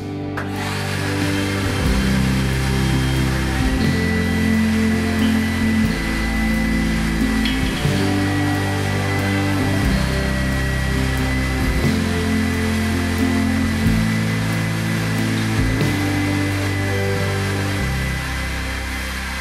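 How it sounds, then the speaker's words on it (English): A bobbin sander shapes a guitar body template for a Rickenbacker 620/12 build. It drones loudly and steadily, and its low pitch shifts in repeated steps as the wood is pressed against the spinning drum. "next we'll get this on the bobbin sander and just get this cleaned out to a bit of a nicer shape"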